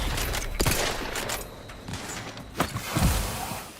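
Rifle gunfire in The Outer Worlds 2, several loud bursts of shots crackling through the whole stretch, with sharper cracks near the end and mechanical clatter between volleys.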